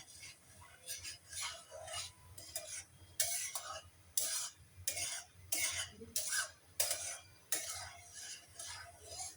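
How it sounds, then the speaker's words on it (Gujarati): A spoon stirs prasad in a pan in repeated short scraping strokes, faint and close, with light clinks of metal between passes. "થોડી વાર આપણે આ રીતે હલાવીશું"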